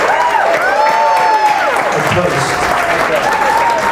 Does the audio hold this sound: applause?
yes